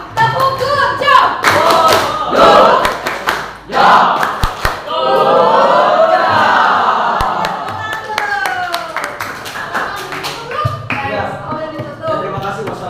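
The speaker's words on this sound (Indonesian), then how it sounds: "Oke, kita tepuk good job dulu buat semua kelompok. 1, 2, 3, go. Tepuk good job." A classroom group performing the rhythmic "good job" clap chant, hands striking in patterned bursts together with loud chanting voices, near and energetic.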